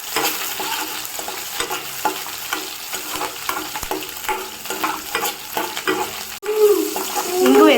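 Green chillies and asafoetida frying in a pan while being stirred: a steady crackling sizzle with repeated scraping strokes throughout, close and fairly loud.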